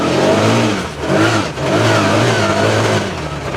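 CF Moto UForce 1000 ATV engine accelerating hard, a loud, close, continuous revving drone that rises and dips briefly before pulling on again, with no talk over it.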